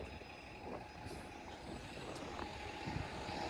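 Street traffic on Overlea Boulevard in Thorncliffe Park, East York, Toronto on a weekday afternoon, with a steady low rumble of trucks and buses, a faint air-brake hiss and a distant beeping, heard from the sidewalk with no talk.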